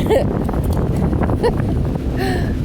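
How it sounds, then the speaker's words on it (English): Gusty wind buffets the microphone beside a river, a steady rough rumble with a few brief chirps and sounds on top. "this is too windy probably to be videoing"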